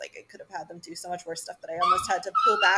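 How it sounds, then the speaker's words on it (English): A pet dog lets out high, thin whimpers in the later half, partly masked by a person talking steadily indoors. "Oh, sorry, that's my dog."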